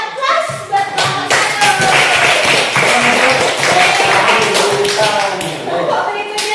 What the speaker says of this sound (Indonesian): kita beri aplaus buat kelompok